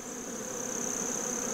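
Honey bees hum at their hive in a mild winter setting, a steady close drone holding one pitch without a break, with no voices present.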